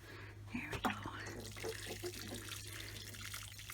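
Water pours steadily from a can onto a freshly transplanted Early Girl tomato plant, a continuous soft splashing and trickling that runs throughout at moderate distance.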